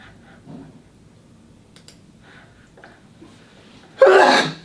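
A single sharp sneeze bursts out loudly near the end, after a stretch of quiet room sound and faint murmurs.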